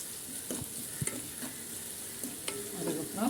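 Vegetables with salt sautéing in a pan for bread rolls: a continuous close sizzle of frying with a few stirring scrapes and knocks against the pan.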